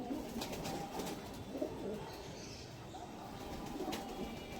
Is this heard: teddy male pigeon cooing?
yes